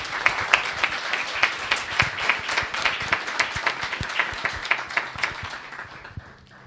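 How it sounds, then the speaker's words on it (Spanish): An audience at a public law conference gives a speaker a round of applause, with distinct, rhythmic claps standing out over a fuller crowd clapping that thins and fades away at the end. "Pido un fuerte aplauso para el doctor Quintián"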